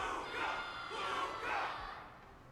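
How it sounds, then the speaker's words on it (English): A crowd roars and cheers in the video game Honkai: Star Rail, the sound swelling in two or three broad waves over a steady background before fading near the end. "The crowd is going wild."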